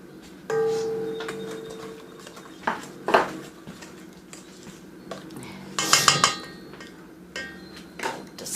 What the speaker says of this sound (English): Just give this a whisk